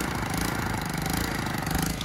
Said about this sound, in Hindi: पैडली मोटरसाइकिल स्टार्ट हो चुकी है